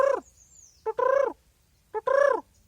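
Two birds call back and forth on a nature walk, each giving short clear paired notes in turn, with gaps of quiet between the exchanges.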